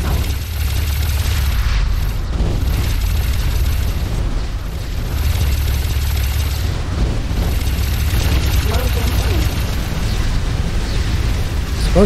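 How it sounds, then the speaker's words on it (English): A station's docking bay blows up in the space game X4 Foundations, a loud, sustained rumbling boom with crackling debris that rolls on steadily for many seconds without pause. "I think that was the Wharf's docking bay that blew"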